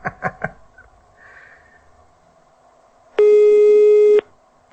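A telephone busy signal sounds as one loud sustained electronic tone about a second long, coming after a few short thumps and a faint murmur, with no speech over it.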